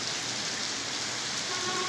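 Heavy rain falls steadily in Ribeira do Pombal, Brazil, a dense, loud, unbroken hiss that carries on alone without any voices.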